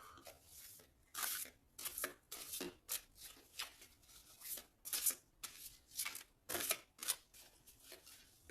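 Tarot cards being shuffled for a reading, a run of crisp riffling bursts and soft slaps in an uneven rhythm, close up and alone without voices.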